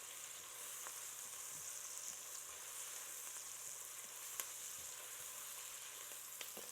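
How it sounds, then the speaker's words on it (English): Sliced yellow onion caramelizing in a pan for spaghetti sauce, a faint steady sizzle with occasional soft pops and light stirring, no voices. "while I'm caramelizing the onion"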